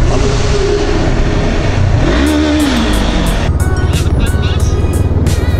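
A Honda CB500F-era motorcycle ride near Royal National Park as a bike arrives, engine revving up through a rising whine and then accelerating past close by, loud over steady road and wind noise.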